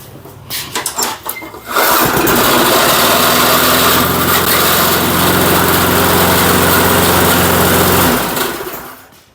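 Ten-year-dormant Murray lawn mower with a small recoil start: a few sputtering pulls and coughs, then the small engine catches and runs loud and steady at a high buzzing pitch for about six seconds before cutting off.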